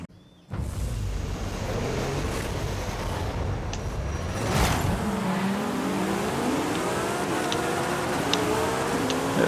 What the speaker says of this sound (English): Let's see how our STO rally car does.